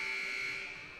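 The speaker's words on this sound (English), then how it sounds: "so now you hear the buzzer" A steady electronic buzzer sounds at a junior varsity high school basketball game, one continuous tonal blare lasting about a second and fading slightly at the end, fairly faint in the gym.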